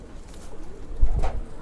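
Male pigeons in a loft give a close, deep coo that swells briefly near the end over a quiet room hum.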